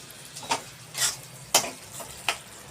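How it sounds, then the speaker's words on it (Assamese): Eggplant (brinjal) frying in a pan gives a soft sizzle beneath four brief, sharp scraping stirs spaced about half a second apart, close and fairly quiet. "এতিয়া মই বেঙেনাটো মই ফ্ৰাই কৰিম"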